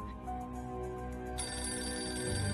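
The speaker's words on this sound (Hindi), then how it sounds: "बेटा फोन उठाओ।" A telephone rings with a repeating electronic ringtone, loud and close, continuing without a break and with no one talking.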